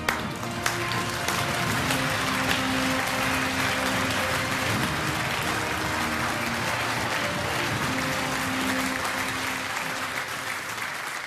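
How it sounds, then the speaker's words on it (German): A comedy stage show audience bursts into applause, a dense, steady wash of clapping from many hands that holds at an even level throughout. "Applaus!"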